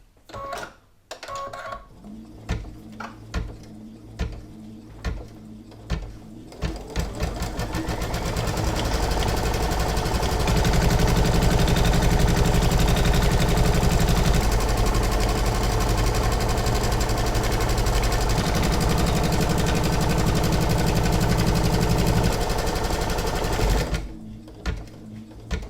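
An embroidery machine stitches the placement line for an in-the-hoop coaster's top panel. A few clicks and taps give way to a loud, continuous rhythmic motor hum that holds for most of the clip before stopping with more clicks.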